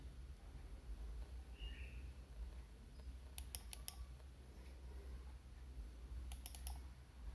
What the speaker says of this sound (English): it's the sound of the switch.